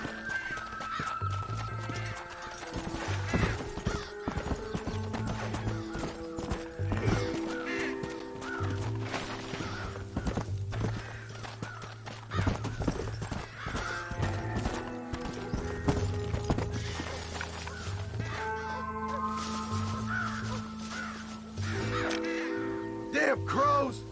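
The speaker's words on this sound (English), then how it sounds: "Damn crows!" Crows cawing in Red Dead Redemption amid horse hooves clip-clopping and occasional whinnies, the calls recurring over a busy game soundscape with some speech.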